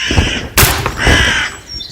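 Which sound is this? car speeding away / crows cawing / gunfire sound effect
crows cawing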